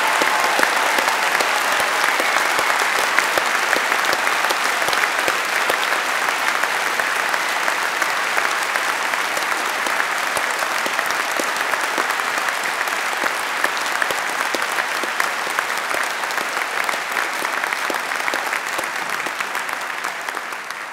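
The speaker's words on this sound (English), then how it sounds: "Why doesn't everybody else here give them a big round of applause" A large audience at a London degree ceremony applauds the graduates, a loud, sustained roar of many hands clapping evenly for about twenty seconds with no break.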